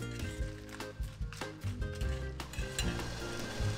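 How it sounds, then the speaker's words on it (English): Steady sizzling of sweet peppers and a chili frying in olive oil in a pan, close up, with repeated clinks and scrapes of a utensil stirring. "she fries some sweet peppers and one of her freshly picked chilies in some olive oil"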